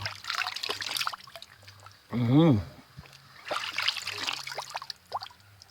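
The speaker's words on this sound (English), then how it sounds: "Yeah man, nice clean water guys." Clean spring water trickles along a Jamaica nature walk in a soft, steady dribble heard close by, partly under talk from people nearby.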